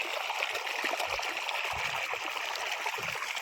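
Water from a motor pump pours continuously into a farm field, a steady close rushing and trickling that stays even throughout.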